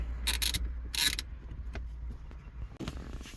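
Deep socket ratchet tightening the shifter bolts on a 2003 Toyota Matrix during a quick shifter install, giving two short bursts of rapid ratcheting clicks early on and a fainter burst near the end over low rumble.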